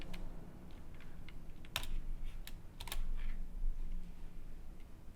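Typing on a computer keyboard, a run of light, irregular key clicks with a few sharper taps, close and alone with no talk, over a faint room hum.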